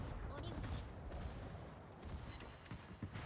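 Torpedo hits on the Belfast '43 warship in a naval video game, a faint rumbling burst of muffled explosions and booms.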